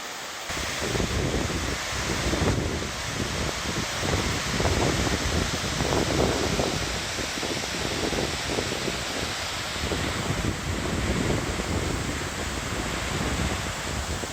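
Shine Falls waterfall pours in a steady, broadband rush of falling water that stays loud and constant throughout, with no voices.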